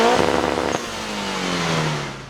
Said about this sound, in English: The exhaust is actually a 3-inch custom exhaust, going through a resonator and a muffler.